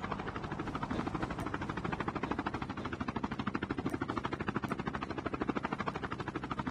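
An approaching helicopter in a first-person shooter video game, a continuous rapid rotor chop that beats evenly and moderately loud with no voices over it.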